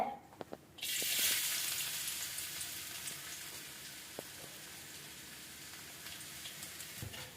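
Garlic hits a hot pan for nasi goreng sotong and bursts into a loud sizzle after a few clicks, then fries on steadily and softens slightly; close and alone.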